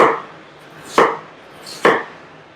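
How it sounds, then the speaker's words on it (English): Knife chopping onions for vegan burritos, with two sharp, close cuts about a second apart over a soft hiss and no talk. "You slice up these onions."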